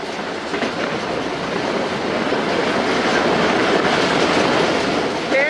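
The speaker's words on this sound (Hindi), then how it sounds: "10 डाउन अल्लामा इकबाल भी अप्रोच कर रही है" Allama Iqbal Express passenger train approaching a station, a loud, continuous rumble with steady clickety-clack of wheels over rail joints building as it nears, no talk.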